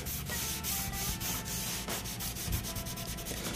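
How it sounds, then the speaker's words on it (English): Stain being rubbed by hand onto a textured sheetrock wall, a steady close scratchy rubbing with repeated strokes throughout, no voices. "what I'll do is just rub it on"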